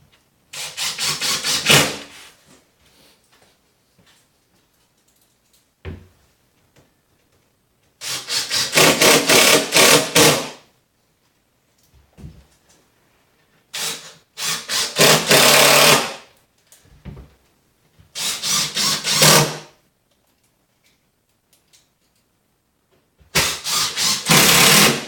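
A power screwdriver drives screws into sturdy wooden shipping boxes in several separate loud bursts of whirring and grinding, each lasting a second or two, with quiet gaps between them.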